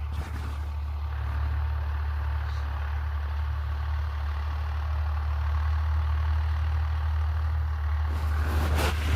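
A tractor engine runs steadily at idle, ready for sowing fodder in a farm field. A constant low rumble and drone hold near and even throughout, with a brief clatter at the very end and no speech.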